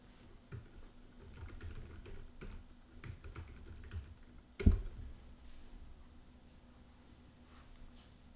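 Someone types a name on a computer keyboard, producing a quiet, close run of irregular key clicks that ends in one sharper tap, then falls silent. No one talks.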